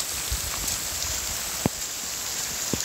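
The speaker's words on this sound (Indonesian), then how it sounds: "Suasana hujan." Rain falling steadily at the Kawah Ratu crater, a dense continuous patter with a few sharper drops standing out, heard alone without voices.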